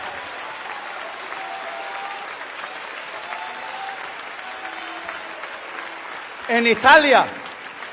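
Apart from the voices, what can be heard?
congregation applauding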